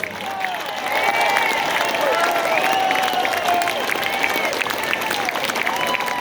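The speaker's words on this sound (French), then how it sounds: "On s'applaudit très fort." An audience at a country music festival in Louiseville applauds warmly, a steady wash of clapping mixed with crowd murmur and scattered whistles, sustained and fairly loud for the whole stretch.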